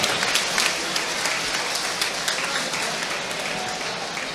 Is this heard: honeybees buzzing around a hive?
no